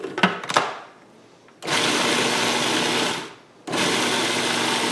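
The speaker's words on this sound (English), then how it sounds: "And then we'll go ahead and give it a quick grind again." Food processor grinding a crawfish bisque mixture into a dough, two sustained whirring bursts of a couple of seconds each after a few brief clunks, loud and close.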